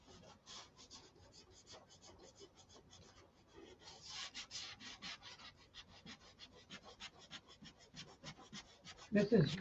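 Sanding the finish on a Viper: a continuous, fairly close rasping rub in quick back-and-forth strokes that grows louder toward the end.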